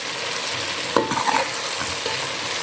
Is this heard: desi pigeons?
no